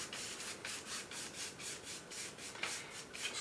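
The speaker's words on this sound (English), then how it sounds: "covering the canvas here with titanium white mixed in with some thinner, just little crisscross strokes across the top" A paintbrush loaded with titanium white oil paint thinned with thinner scrubs over a canvas in quick crisscross strokes, a soft rhythmic swishing that repeats steadily and stays faint and close.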